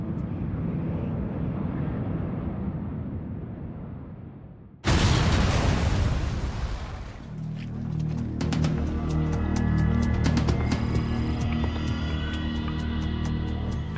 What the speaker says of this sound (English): an explosion rips through Tokyo's Narita airport